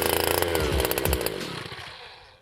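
A loud two-stroke engine revs hard and drones as a powered ice auger bores a hole through ice, then winds down and fades over the last second.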